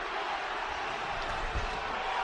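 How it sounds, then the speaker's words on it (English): A sold-out arena crowd roars at a fight, a dense continuous cheer heard from within the crowd, with a low rumble underneath. "Listen to this sold-out crowd."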